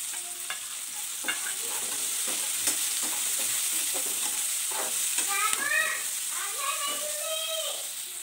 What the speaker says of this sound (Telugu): ఇప్పుడు పచ్చిమిర్చి వేస్తున్నాను. కరివేపాకు కూడా వేసేస్తాను.